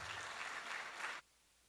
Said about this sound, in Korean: 뜨거운 박수로 모시겠습니다